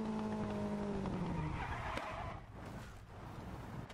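A rally car skidding across a wet track in the video game WRC 10, engine whine and tire noise sliding and fading over a few seconds, steady and moderately loud.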